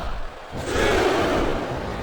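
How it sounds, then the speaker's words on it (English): Wrestling arena crowd at a WWE ECW Elimination Chamber match, a large audience roaring and chanting in a sustained loud wash of voices that swells after a brief dip. "I'm not sure I agree with what the crowd is chanting, JR, but I guess it's their right."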